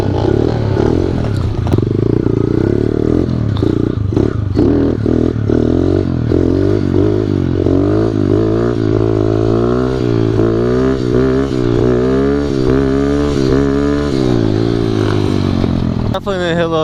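A Honda Elite scooter fitted with a Polini Corsa 72cc engine, its carburetor in need of cleaning, revs up and down steadily for the whole stretch, close and loud, with a rising and falling pitch and some clatter.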